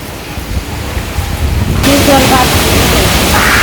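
Heavy, wind-driven rain in a village setting starts as a moderate rush, then surges abruptly midway into a loud, dense roar that holds steady to the end.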